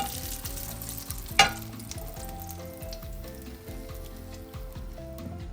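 Eggplant omelette sizzles steadily as it fries in a pan, with a sharp scrape or clack of stirring near the start and a continuous crackle throughout; no one talks.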